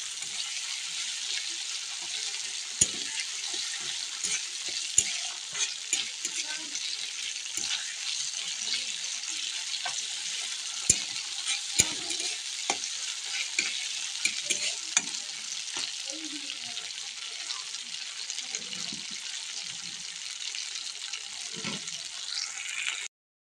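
Chicken frying with spice paste in a pan, a steady soft sizzle with scraping stirs and occasional utensil knocks, close and continuous throughout.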